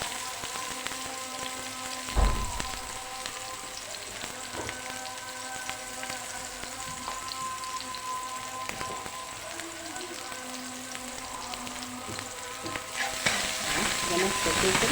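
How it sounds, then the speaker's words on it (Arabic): Garlic frying in a pan with a little ghee and butter, a steady crackling sizzle throughout with occasional clinks and soft knocks of utensils. "هنقوم حاطين الثوم بتاعنا، راس توم معانا كده، نضرب بس نديها سمنه كده بسيطه كده، وننزل عليها الزبده"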